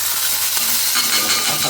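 A hot pan is plunged into water and gives off a loud, continuous steam hiss at close range. The broad hiss lasts the whole short moment with no talk.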